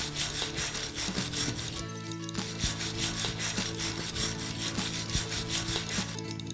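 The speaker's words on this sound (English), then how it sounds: "Use a wire brush to remove any loose flaking paint." A wire brush scrubs loose, flaking paint off a metal gate in fast, steady back-and-forth strokes. The rasping scrape is close and continuous, with no voices.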